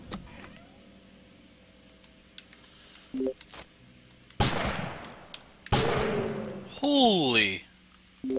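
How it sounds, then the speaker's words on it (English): Gunfire from a massive .357 Magnum hand cannon in a video game: two loud broadband blasts in quick succession around the middle, set among other game sounds and a sweeping whine. "Massive hand cannon fires 357 Magnum rounds."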